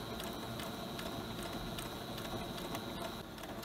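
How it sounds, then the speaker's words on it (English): A sewing machine stitches pinned fabric pieces for a faerie blossom hat, a steady, rapid mechanical clatter that runs close and even throughout with no voices. "I'm just sewing along all of the shapes we pinned."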